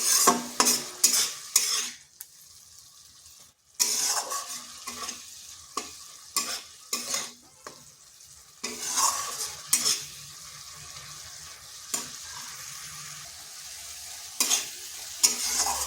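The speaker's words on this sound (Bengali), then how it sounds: "মশলা যত কষবেন তার স্বাদ কিন্তু ততটাই বেড়ে যাবে।" Thick spice paste being stir-fried in a kadai until the oil separates, with repeated spatula strokes in short bursts separated by brief pauses and a soft sizzle beneath.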